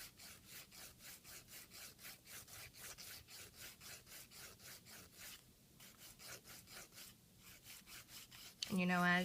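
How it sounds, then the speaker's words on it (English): Steady back-and-forth rasping of a nail file shaping an acrylic fingernail, a fast even rhythm of close strokes with a brief pause midway, ending in a sudden louder tonal burst. "fingernail file stays in constant contact with the nail plate, like the bow of a violin"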